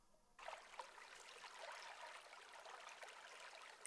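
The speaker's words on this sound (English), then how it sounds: "Some water sounds." Quiet, steady trickling water, like a small stream, forms a soft ambient bed in an Asian/Japanese-style lofi track, starting abruptly and continuing evenly at low volume.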